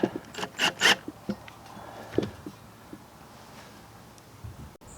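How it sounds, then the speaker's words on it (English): Plastic zip ties cinched around a DIY rose pillar support: a few quick, close ratcheting zips at the start, then faint scattered rubbing and a light tap in a quiet space. "I'll probably just secure it with some zap straps across there"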